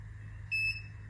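An Urban Yog hair curler gives a single short, clear electronic beep as it switches on, a bright tone lasting about a quarter second over a quiet low hum.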